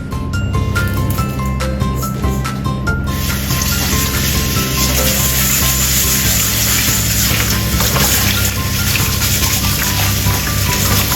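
Rice being washed in water produces a loud, constant rushing and splashing close by, with a brief rattling at the start before the steady wash takes over.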